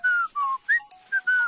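A person whistling a short, lively tune of quick separate notes, clear and close, with no talking.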